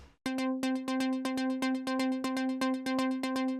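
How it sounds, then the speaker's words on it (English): A bright plucked synth note from a preset called Deep Pluck repeats in a steady rhythm, each short, sharp attack decaying quickly, alone and up close with no talking. "I have this preset called Deep Pluck, and it sounds like this"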